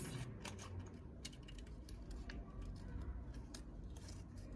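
Scissors snip through paper or thin cardboard while making a children's pencil holder, a run of crisp close cuts with steady rhythm over a faint background rumble.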